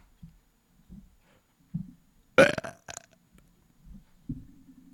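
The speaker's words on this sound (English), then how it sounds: "that was my burp." A person lets out one loud, short burp in a quiet room, with faint low thumps before and after.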